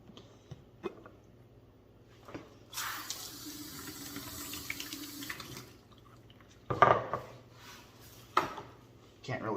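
Running water gushes from a tap for several seconds while a 12-pound Lortone rock tumbler barrel is washed out, with clunks and knocks of the barrel before and after, close by.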